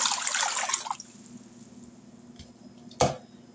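Water splashes and pours into a crock pot in a short burst, followed by a quieter stretch and then one more brief splash, all close by with no talking.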